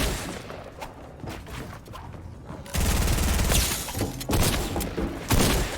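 Rapid bursts of Fortnite gunfire, loud and close, crackling over a noisy background, growing denser partway through.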